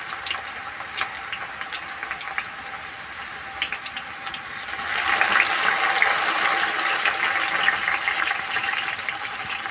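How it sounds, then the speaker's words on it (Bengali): Onions sizzling and frying steadily in hot oil in a home kitchen, a continuous hiss that swells louder midway, close and alone with no talk. "তেলটা গরম হয়ে গেছে, এবারে পেঁয়াজগুলো ভালো করে ছিপে দিয়ে দিচ্ছি"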